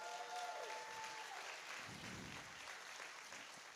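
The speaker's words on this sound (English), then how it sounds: "let's have a round of applause for our grand prize total" An audience at a business pitch competition gives a sustained round of applause, a dense, even wash of clapping heard from a short distance, with no talk over it.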